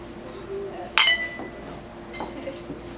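Glasses clink together in a single bright chime during a toast at a wedding rehearsal dinner, ringing briefly over low room chatter with a few softer clinks after.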